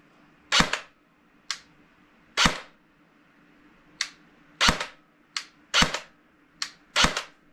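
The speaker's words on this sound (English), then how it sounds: "So on semi-auto, positive click on the reset." Umarex Elite Force MP5 airsoft gun firing on semi-auto, running on a 7.4 V LiPo: about eleven sharp, close snapping shots in an irregular rhythm, with a faint steady hum between them.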